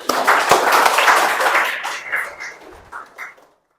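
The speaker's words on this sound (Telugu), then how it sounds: "చలో క్లాప్ ప్లీజ్." A classroom of students in a law lecture bursts into loud, close applause that carries on for a couple of seconds, then thins into scattered claps before stopping.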